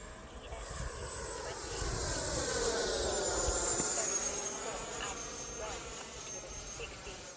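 An E-Flite 80mm F-16 electric ducted-fan RC jet whines as it passes, a high, sustained buzzing tone that swells louder and then fades into distant wind.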